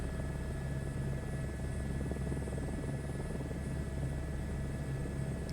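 A helicopter flies in Microsoft Flight Simulator 2024 over tropical Bora Bora scenery, producing a steady, loud rotor and engine drone with a constant low throb and no break.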